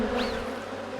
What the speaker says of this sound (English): It might be just the bees.